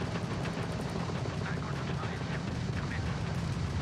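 Spaceship weapons fire during a space battle in the video game Starfield: a dense, continuous rumbling barrage of blasts that fills the whole stretch at steady loudness.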